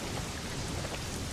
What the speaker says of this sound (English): Maybe because it's raining.